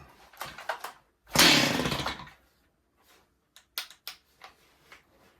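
A Stihl 028 Wood Boss chainsaw running with its air filter removed fires for about a second in a loud, rough burst, then stalls, followed by scattered clicks and knocks.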